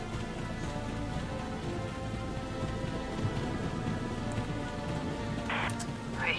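Steady heavy rain pours through a Valkyria Chronicles 4 thunderstorm scene, a dense continuous hiss with no clear thunder, holding level for the whole stretch.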